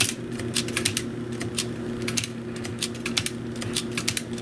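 An IBM Selectric typewriter clears its tab stops with a rapid series of sharp mechanical clacks in uneven clusters, close and loud over a steady low motor hum, with no talk.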